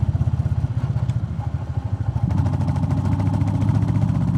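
A Royal Enfield Meteor 350 fitted with a DNA air filter thumps steadily while riding in fifth gear at about 40, its loud, rapid exhaust pulses continuous and close, with no talking.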